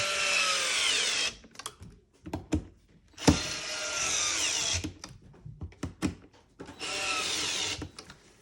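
Power drill or impact driver tightening two bolts on a hanger part, three sustained whirring bursts of about a second and a half each, close and loud, separated by clanks and handling knocks.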